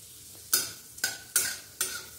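Chira pulao, flattened rice, is fried and stirred in a pan, giving four sharp sizzling bursts at a steady rhythm as the food is tossed, each fading quickly into a soft background hiss.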